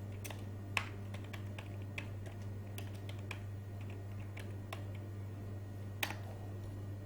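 Steady typing on a computer keyboard while entering text into a spreadsheet cell, with quick irregular key clicks and a few sharper taps over a constant low electrical hum.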